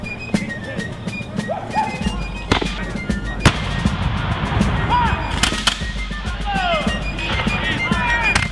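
Volley of rifle gunfire at a Rangers reenactment during a city's 350th anniversary event, sharp outdoor shots cracking amid shouted commands and crowd noise, with people talking throughout.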